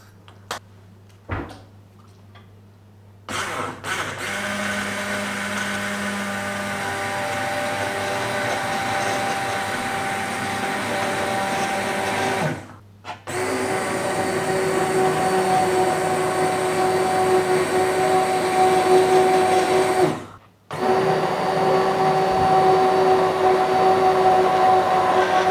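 An electric blender whirring through cooked ingredients for Ukrainian pumpkin soup, a loud, steady motor drone running close with two brief stops before starting up again, no talking.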